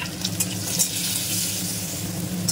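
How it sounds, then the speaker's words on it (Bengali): Potatoes sizzle in hot oil with salt and turmeric, a loud, continuous close frying hiss with faint stirring scrapes and no talk. "তো আমি প্রথমে আলুটা হালকা ভেজে নিচ্ছি"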